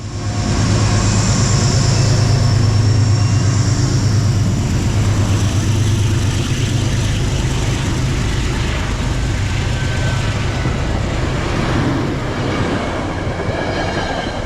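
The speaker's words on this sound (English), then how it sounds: "New Haven P32 ACDM 231 belch out some black smoke as the big GE lugs train" A New Haven GE P32AC-DM diesel locomotive, number 231, lugs a passenger train past toward Danbury, a loud, close, continuous engine roar with rolling wheel rumble and rail clatter that eases slightly near the end.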